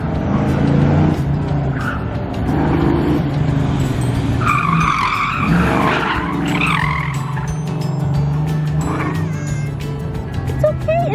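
Tires squeal and skid briefly at the 2019 Good Guys car show, a sharp screech rising midway over steady crowd and engine rumble, with people talking nearby.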